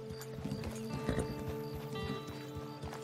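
Horse hooves clip-clopping in a Western video game, quiet rhythmic hoofbeats with a brief whinny over a low ambient game soundscape and faint background tones.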